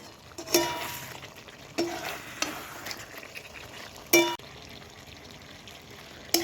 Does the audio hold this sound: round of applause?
no